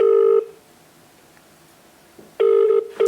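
Phone call tones during a live giveaway draw: a steady ringing tone, a pause of near silence, then two more tone bursts repeating the pattern, loud and clear with no talk.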